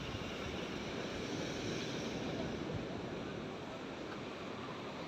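Sea waves at Poompuhar beach crash against rocks in a continuous, heavy roar of surf mixed with wind, steady and faint, with no talking.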